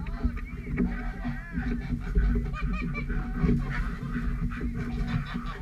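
Geese honking and calling in a winter duck and goose house, mixed with duck sounds and wing or body shuffling, loud and close throughout with a faint voice underneath.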